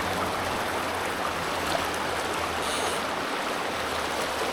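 The River Birs in Canton Jura, Switzerland flows past in a close, steady, loud broadband rush that continues evenly without pause, with no voices heard.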